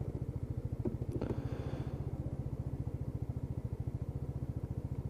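A Lexmoto Titan motorcycle engine idles steadily at around 1500 to 1700 RPM, a close, even, rapid low thumping pulse with a faint brief clatter near the start.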